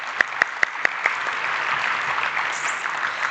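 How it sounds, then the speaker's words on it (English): Audience applause at a fall research center meeting in Boston: a few distinct early claps then a steady, dense wash of clapping from a seated conference crowd, moderately loud and continuous with no talking. "start out with giving them some love with a round of applause"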